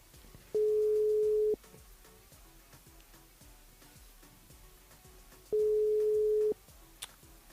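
Two steady one-second telephone line tones, spaced about five seconds apart with quiet line hiss between, heard while a radio show host rings a listener.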